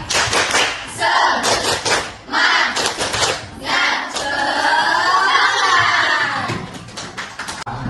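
A group of students in a classroom performs the "tepuk semangat" spirit clap, with bursts of patterned clapping mixed with loud shouted chanting from many voices, close and energetic.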